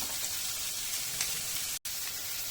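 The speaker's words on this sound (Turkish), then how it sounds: "bunları da köftelerimizi kızartmaya başladık" Meatballs sizzle steadily in a hot pan, a constant crackling hiss with one abrupt brief cutout near the end.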